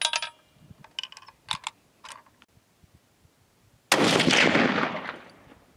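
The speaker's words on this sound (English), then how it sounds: "First shot." One loud .30-06 rifle report from a powder-coated cast bullet booms and decays over a couple of seconds outdoors, preceded by a few clicks and clacks of gear handling.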